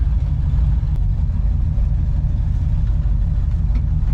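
A 1966 Chevy C10 pickup truck driven on the road after sitting for over three years: a loud, steady, low engine drone with road rumble, continuous and close, with no talking.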